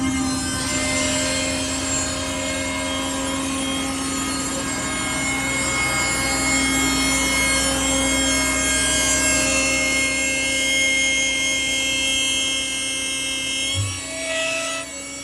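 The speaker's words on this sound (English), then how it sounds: "The compressor will stay running basically to keep it at pressure in cycles." A 2016 Kenworth T370 work truck with a PX9 350 HP engine runs its air compressor, a steady loud mechanical drone with a strong tonal hum that holds evenly, then briefly shifts and dips near the end. No one speaks.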